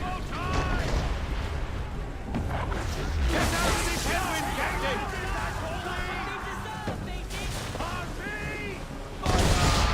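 Broadside cannon fire from ships during an Assassin's Creed 3 naval battle, with repeated booming blasts and rumbling over crew shouts and voices throughout, and a fresh loud burst near the end.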